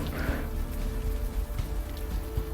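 Steady rain falls in a spooky ghost-hunting video game, a constant even hiss with no voices over it.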